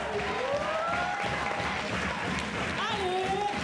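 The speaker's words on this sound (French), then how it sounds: "allez, on l'applaudit" Audience applause at a talent show, a steady dense wash of clapping throughout with voices and cheering woven over it.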